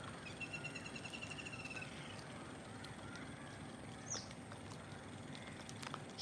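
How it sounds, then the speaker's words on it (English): A lesser flameback woodpecker calls in a rapid, even series of high notes for about two seconds, followed by one brief sharp note later, over a steady low background rumble at dawn on Lake Vembanad. "we've just heard a lesser flameback calling"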